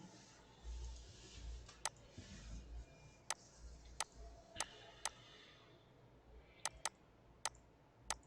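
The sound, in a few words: computer mouse clicking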